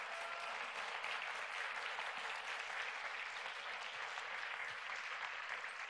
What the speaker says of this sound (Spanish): Dele un fuerte aplauso al Señor.